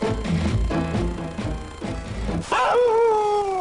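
Siberian huskies in Ushuaia howl together, several voices rising into long sliding wails after a stretch of mixed yips and barks, loud and close with no talk over them.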